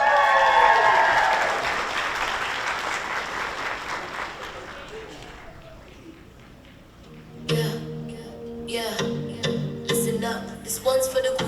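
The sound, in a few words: applause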